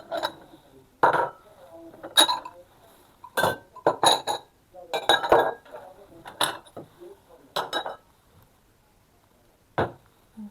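Food being served into dishes, about ten sharp clinks of plates and cutlery spaced irregularly, close and clear with quiet gaps between them.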